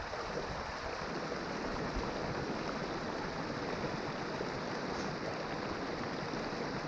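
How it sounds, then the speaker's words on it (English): The swift current of the Middle Fork of the Holston River near Marion, Virginia rushes steadily in winter, a constant close broadband wash of flowing water with no talk. "Water is a lot swifter right here, more swift"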